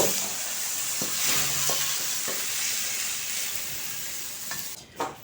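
Tocino frying in a pan while being stirred, a constant close sizzle broken by occasional scrapes and clacks of the utensil, ending with a couple of louder knocks.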